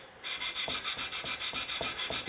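A plane iron is worked back and forth on a 150 grit sharpening stone, making a steady rhythm of about a dozen close, even hissing rubs.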